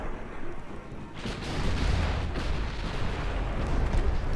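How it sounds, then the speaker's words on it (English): Torpedo explosion in a naval battle video game set in a Spanish dreadnought campaign: a deep, rumbling boom swells after about a second and carries on as a sustained roar, loud and without talk. "Torpedo explosion."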